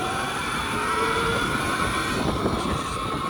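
An electric mini bike accelerating hard at power level 9 gives a steady, close motor whine with several high tonal lines over continuous rushing road and wind noise, with no talking.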